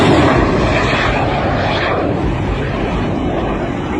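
A loud, steady roar of an aircraft passing overhead, a broad rushing engine noise that slowly shifts as it goes by.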